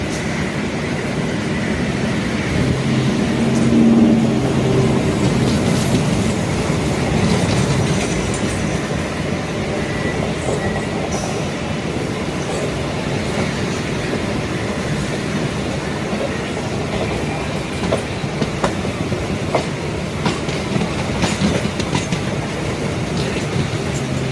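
An electric EMU suburban train near Velachery runs steadily along the tracks for the whole stretch, a loud continuous rumble with clickety-clack and faint wheel squeal, close by and without talk.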